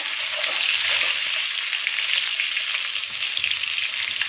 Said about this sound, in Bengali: তো বেগুনটা এখন ভাজবো লাল লাল করে।